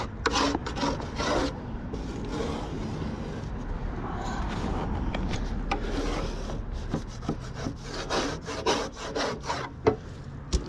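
Buildup being scraped off the hood of a Cabking 8-inch cabbing machine, a steady close rasping scrape with irregular strokes and sharper scratches toward the end, no talking.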